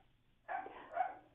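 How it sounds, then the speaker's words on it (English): A dog heard over a phone line gives two quick, muffled barks in succession, thin and faint, with no talking over them. "I have my dog barking, so I can't quite hear."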